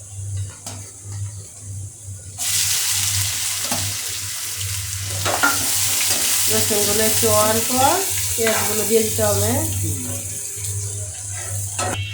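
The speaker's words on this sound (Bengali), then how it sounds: "ভালো করে কষাতে হবে মশলাটা" Spice masala of coriander powder, turmeric and salt sautéing in oil in a pan sizzles steadily after a short quieter start, with a faint tonal hum underneath and scraping stirring noises through the middle.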